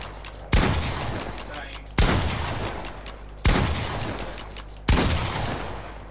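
Four loud shotgun blasts in a video game, fired at a steady rhythm about every second and a half, each sharp crack trailing off into a short rumbling decay, with rapid reloading between shots.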